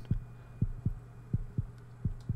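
Heartbeat sound in the video game The Invincible, a steady lub-dub thumping, low and muffled, repeating about every half second over a faint droning hum.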